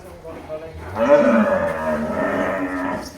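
Giant sacrificial cattle weighing 400 kg to over a ton moo in a rural pen, one loud, drawn-out low call swelling in and carrying on over a second of steady bellowing, with faint voices underneath.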